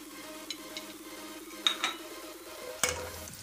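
Garlic ginger paste frying in a pan while a spoon stirs it, soft sizzling under a few light clinks and scrapes of metal against the pan, close and quiet with no talking.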